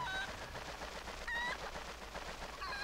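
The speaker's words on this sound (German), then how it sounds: "Diese armen Gockel" Roosters (cuccos) in the video game Zelda Twilight Princess squawk in short bursts over a busy game soundscape, faint and fairly low in the mix.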